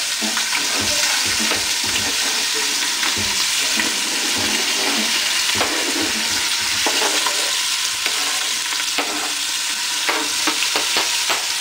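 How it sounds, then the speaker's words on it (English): Peppers and onions frying in hot oil give off a loud, dense, continuous sizzle up close, broken by frequent stirring scrapes and crackles, with no voices. "And we'll take the peppers and onions that we just cut up right back in the oil."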